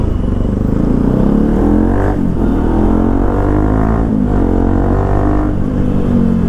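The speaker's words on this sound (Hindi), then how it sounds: "तो अभी डोमिनर का टेस्ट ड्राइव लेने गए" Bajaj Dominar motorcycle on a test ride, its engine droning loud and close with rising and falling revs through gear changes, steady wind and road noise underneath.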